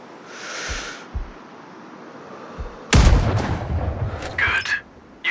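Sniper rifle shot in the video game Sniper Ghost Warrior Contracts, a single sharp, loud crack and boom about halfway through, followed by a rumbling echo and a few smaller game sounds over a quiet background.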